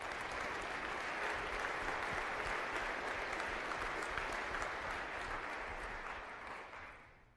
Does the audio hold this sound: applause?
yes